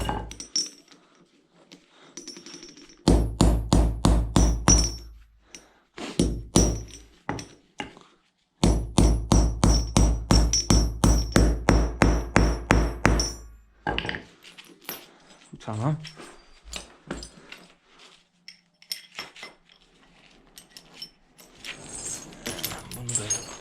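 Tractor chain link parts are struck with a hammer in rapid bursts of sharp metallic clanks, two long runs of steady blows with scattered single hits between and after, close and loud in a quiet workshop.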